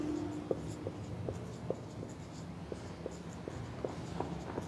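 Chalk or marker writing on a classroom board gives faint, regular scratchy taps and strokes, soft and fairly close against a quiet room hum.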